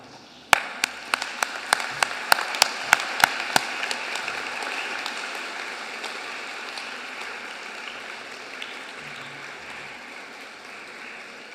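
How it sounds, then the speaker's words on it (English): Graduation ceremony audience giving a round of applause, opening with a burst of distinct sharp claps over the first few seconds, then settling into a steady, softer wash of clapping that slowly fades. "thank each and every one of them with a big round of applause"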